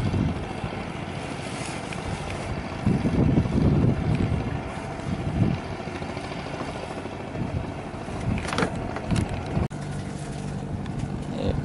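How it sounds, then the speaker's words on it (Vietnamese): A clam-dredging boat motors in toward shore in late afternoon, its engine a steady low drone with wind buffeting the microphone and some splashing water, holding at moderate distance throughout. "Có chiếc ghe cào lụa đang chạy vô"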